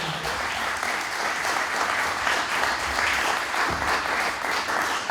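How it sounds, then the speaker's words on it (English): A room claps for children at an MLK Day celebration hosted by the Cape Verdean Association, a full, even round of applause sustained for about five seconds without a break. "Give them a big round of applause one more time."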